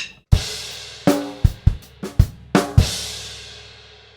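A drum kit plays a grade 3 lesson groove in bar 19, opening on a crash and then striking snare and bass drum in a sparse, punchy pattern. A long cymbal wash decays afterward, with no voices.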